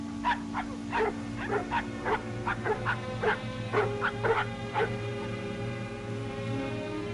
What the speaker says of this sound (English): What in thunder is ailing those dogs?